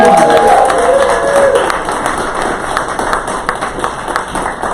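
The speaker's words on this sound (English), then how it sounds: "Let's give a round of applause for everyone." Crowd applause at the closing party of the Boulder Fringe festival in 2019, with dense clapping and some cheering, loud at first and then holding steady, while a voice talks briefly over the opening moment.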